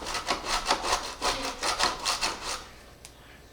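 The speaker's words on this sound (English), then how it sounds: "I need to grate some cheese, so we're gonna start with that. This is what I'm using, fresh Parmesan in the block. We're gonna grate this up." A block of fresh Parmesan cheese is grated in quick, rhythmic rasping strokes close up, about a dozen scrapes before it trails off.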